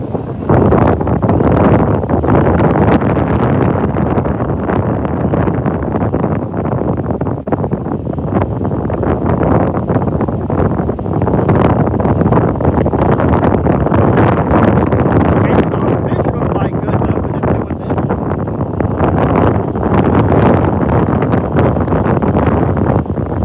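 Strong wind buffeting a microphone out on the water while fishing, a constant loud roaring rumble with gusts that never lets up, and a voice is partly buried beneath it.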